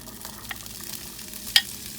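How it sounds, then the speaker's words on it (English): Fresh corn kernels sizzling in hot oil in a pan, a steady close frying crackle with a couple of sharper pops and a brief stirring scrape. "We can tell that it's sizzling."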